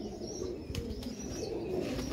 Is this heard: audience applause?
no